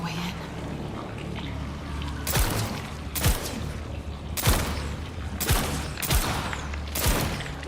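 Gunshots in the Spider-Man 2 video game, five or six sharp, loud single cracks spaced about a second apart over a low, steady ambient background, with no talking.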